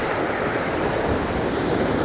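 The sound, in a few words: ocean waves crashing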